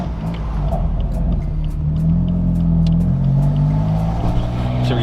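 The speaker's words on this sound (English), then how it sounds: "Downshift." A 700 hp straight-piped BMW M4 downshifts and revs, its exhaust a loud, close, continuous deep rumble that swells and shifts in pitch throughout.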